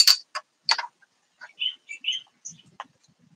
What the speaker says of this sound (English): You can hear birds chirping.